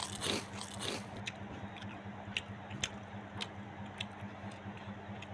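Someone eats a curry of ash gourd cooked with tilapia fish, close soft chewing and biting with a denser burst of crunching at the start, then quieter, scattered mouth clicks and chews.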